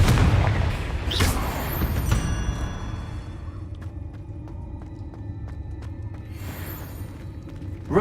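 A Confringo fire spell explodes in the Hogwarts Legacy video game, a loud, low booming blast with a sharp crack near the start, a long rumbling tail, and a second burst near the end.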